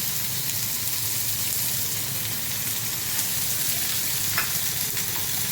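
Stuffed eggplant curry (bharela ringan nu shak) stirred in a pan gives a steady, close sizzle of frying with soft scraping stir strokes throughout, no voices.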